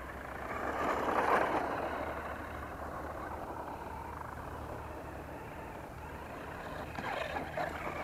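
A ZD Racing Thunder RC car drifting, its motor giving a steady buzzing whine with rising surges and bursts of tyre scrub, heard from a short distance with no voices.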